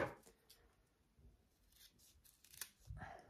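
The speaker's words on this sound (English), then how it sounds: "I'm gonna trim this back part of my zipper tab" Scissors trim the back of a fabric zipper tab while a bag is sewn, giving soft snipping and rubbing sounds in a few short bursts, close and fairly quiet.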